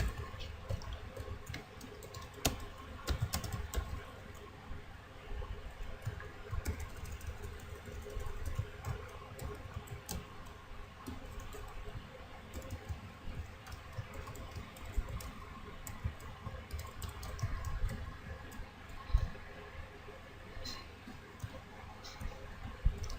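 Fingers typing on a computer keyboard at a desk, a steady stream of quiet, close key clicks with irregular rhythm and occasional louder taps, no talking.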